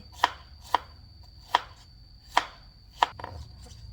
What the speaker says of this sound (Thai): ต้องได้ซอยใส่เขียง